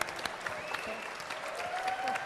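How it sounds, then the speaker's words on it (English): An audience at an evening panel event applauds in a light, scattered patter, with a voice speaking over the clapping. "that's an applause line."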